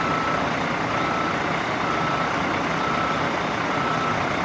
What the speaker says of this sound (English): there's some stupid, like, dump bin lorry in front of me